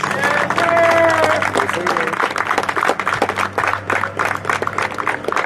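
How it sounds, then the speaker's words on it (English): Spectators applauding a graduating senior at a college tennis Senior Day match, with scattered crisp clapping continuing under a public-address announcer's voice. "Ladies and gentlemen, how about a big round of applause?"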